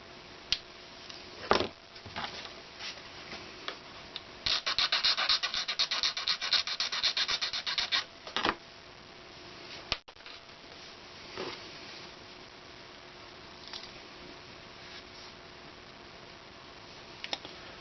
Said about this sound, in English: I'm just going to try and carefully file the end of this down